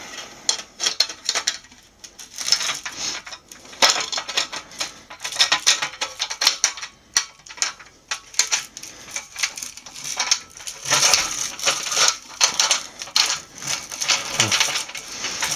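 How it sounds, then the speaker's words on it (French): Metal nuts and M10 bolts slide and clink along aluminium solar panel mounting rails during installation, giving a busy run of close scraping, rattling and small metallic clicks with no talking. "on met un écrou là, hop, boulon, écrou, et puis on peut faire glisser dans le M10 là"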